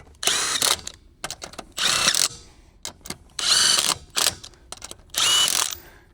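A power tool tightening the lug nuts on a Can-Am Commander wheel in a cross pattern, heard as four or five close, loud ratcheting bursts of about half a second each, separated by short gaps and light clicks.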